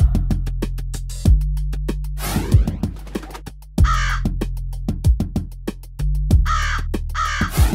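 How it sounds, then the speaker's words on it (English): A crow caws in a rhythmic series of loud, harsh, raspy calls, grouped in bursts and repeated close by several times, heard alone without talk. "Crow."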